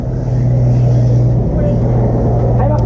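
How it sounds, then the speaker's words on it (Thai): A 2000cc motorcycle roars past close by, its loud, steady engine drone filling the moment before easing off at the end, with people talking over it. "รถสองพันกำลังมา รถเครื่องสองพัน"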